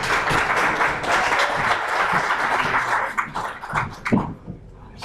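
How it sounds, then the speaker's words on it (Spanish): An audience at a public forum on microtrafficking applauds a speaker taking the stage, a dense burst of clapping that thins into scattered claps and fades near the end. "Un aplauso, por favor."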